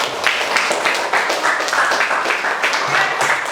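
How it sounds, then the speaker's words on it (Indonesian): A classroom audience claps for a student group that has just presented, producing steady, moderately loud applause from many hands that lasts throughout without a break. "Untuk itu kita beri aplaus kepada kelompok."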